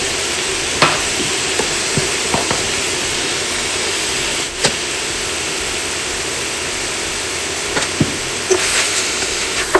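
Ground beef browns in a pan for a shepherd's pie, giving a steady broadband sizzle throughout with a few faint scrapes and clicks of stirring, and no talking.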